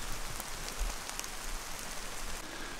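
Steady rain patters and hisses on surfaces during a thunderstorm in the Utah mountains, a dense close wash of drops with occasional louder splats and no voices.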